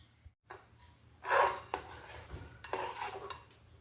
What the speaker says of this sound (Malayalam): ഒരു കപ്പ് ചേർക്കുക നന്നായിട്ട് ഇളക്കി കൊടുക്കുക